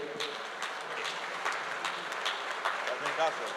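Steady applause from an audience at a book presentation claps on throughout, with a few voices mixed in underneath.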